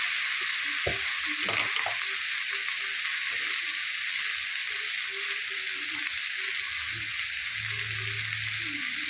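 Okra with peanut flour sautés in a pan, a steady loud sizzle with soft stirring scrapes and clicks underneath, close up and without talk.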